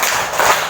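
Hands clapping in a children's traffic-light clapping game in a classroom lesson, a brief loud burst of claps, close and without speech.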